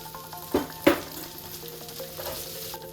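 Potatoes frying in oil in a breakfast skillet, a steady crackling sizzle punctuated by a couple of sharp utensil knocks and scrapes, with a faint tonal background hum.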